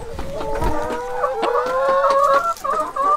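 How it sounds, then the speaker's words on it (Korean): Chickens kept in a coop on a Costa Rican coffee farm cluck and call loudly and close, with a rooster-like crowing phrase among overlapping hen calls. "닭장 안에 갇혀 있는 닭들"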